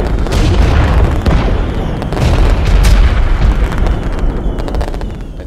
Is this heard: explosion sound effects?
yes